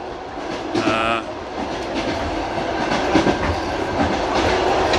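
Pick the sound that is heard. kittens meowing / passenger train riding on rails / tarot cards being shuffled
passenger train riding on rails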